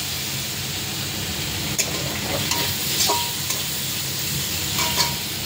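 Tomatoes added to a hot pan ahead of a fish curry broth, frying with a constant low sizzle while a utensil scrapes and knocks against the pan a few times, close up.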